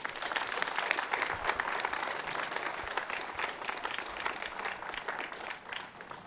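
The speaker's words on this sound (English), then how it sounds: "Please give a round of applause." Steady, dense applause from a crowd, sustained at an even level throughout without any break.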